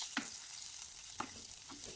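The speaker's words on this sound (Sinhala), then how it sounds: "දාලා ඒක මේ විදියට හොඳට තෙල් එකේ බෙද ගන්න ඕන" Spices, ginger and garlic sizzling in hot oil for Sri Lankan eggplant moju, a steady close frying hiss broken by a few soft stirring scrapes.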